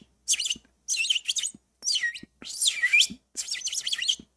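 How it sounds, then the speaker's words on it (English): A bird chirps in short, bright bursts, several quick tweeting phrases separated by brief pauses, fairly faint and close with no talking over it. "Okay, but he's a bird."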